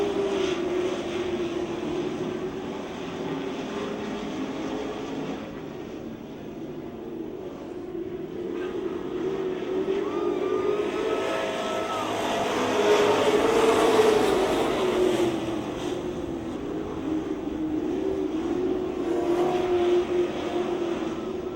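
Race cars lap a speedway track, their engine roar swelling as the pack approaches and passes mid-clip, then easing into a steady distant drone.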